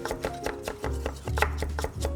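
Carrots being cut into thin strips with a julienne peeler, a quick run of scraping, chopping strokes in a steady rhythm, close and fairly loud with a low background hum.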